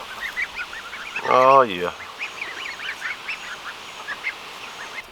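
Baby geese and ducklings chatter with constant high peeping, broken by one loud, close honk lasting about half a second; someone briefly speaks.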